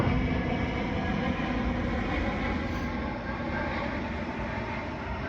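A large aircraft roars overhead near Dallas airport, a loud, steady broadband rumble that fills the whole clip with no break and no voices.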